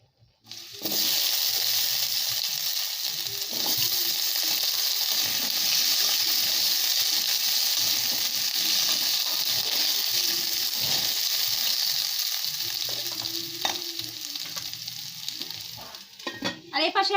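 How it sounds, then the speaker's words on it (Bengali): Whole cardamom, clove, dried chili, bay leaf and cinnamon hit hot oil for tempering, giving a loud, steady sizzle and crackle that runs almost unbroken, with faint stirring knocks underneath and no talk. "চলো ফোড়ন দিয়ে দিই।"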